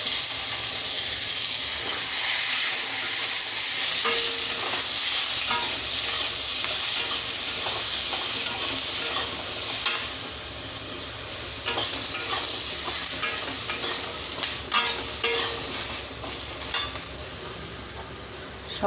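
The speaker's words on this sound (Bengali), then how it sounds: "ওই তেলের মধ্যে এবার ডাঁটা আর আলু আর কাঁচা লঙ্কাটা ভেজে নেব।" Stems, potato and green chili frying in hot oil, a steady loud sizzle and hiss with occasional stirring scrapes against the pan, continuous throughout.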